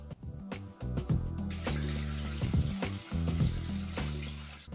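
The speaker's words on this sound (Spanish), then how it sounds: "Vamos a poner en el vaso" Water pours into a Thermomix bowl for a chicken curry with coconut milk and basmati rice, a steady close splashing stream with clinks and knocks over about five seconds.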